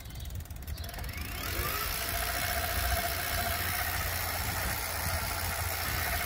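Bezior XF800 electric mountain bike motor, throttle engaged, spinning the chainring: a steady close mechanical whir with a high whine and faint ratcheting clicks, rising after a second and holding level with no talk.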